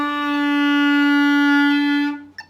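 A woodwind sounds a sustained D, fingered with the left thumb and first finger. It holds as one steady, clear tone for about two seconds, then stops, followed by a faint breath or click.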